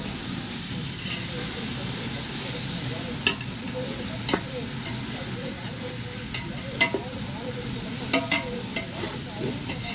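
Coriander and mint leaves sauté in a pan for chicken biryani with a steady, close hiss of frying. Occasional sharp taps and scrapes of the stirring spoon sound against the pan.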